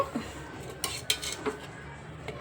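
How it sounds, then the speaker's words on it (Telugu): A kadai (wok) set down on a kitchen stove, a few sharp metallic clinks and knocks spaced over a couple of seconds, fairly close and alone. "ఇప్పుడు ఒక కడాయి పెట్టుకోండి పెట్టుకోవాలండి"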